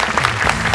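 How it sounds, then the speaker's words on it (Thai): Brief burst of dense clapping from an audience applauding the judges at an awards event, loud and close, cut off after under a second. "ขอเสียงปรบมือแรงๆให้กับกรรมการของเราด้วยครับ"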